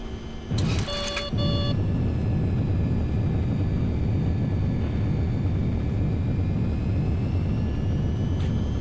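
An MD-80 in a flight simulator rolls out after landing with thrust reversers deployed, a loud steady engine roar and rumble following a brief cluster of cockpit chimes and tones near the start.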